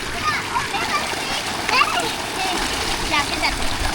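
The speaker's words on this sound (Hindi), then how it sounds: "पानी मोटर दे रही है। ये इसका एक तालाब बना हुआ है" Water from a solar-powered motor pump gushes into a village pond in rural Pakistan, a continuous loud splashing. Children's voices sound over it.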